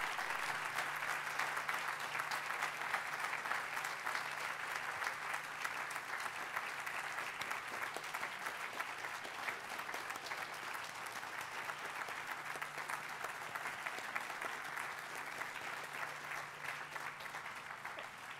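An audience at an innovation campus groundbreaking ceremony applauds at length, a dense, even roar of clapping that holds steady throughout with no voices on top.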